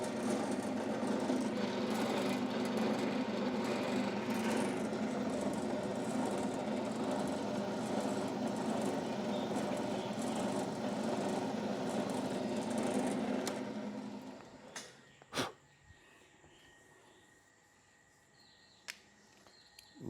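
A lathe running while a centre drill spots a hole in a planetary gear shaft, a steady whirring machine drone that spins down, followed by a few sharp metallic clicks in the quiet workshop.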